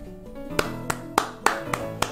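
Six sharp claps in a steady, slightly uneven rhythm, each a distinct loud crack over a low background hum from a Pokémon GO tournament stream in Argentina, with no talk during the claps.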